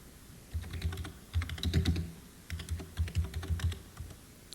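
Text being typed on a 1995-era computer keyboard, bursts of quick clicking keystrokes in irregular runs with short pauses, close and clear.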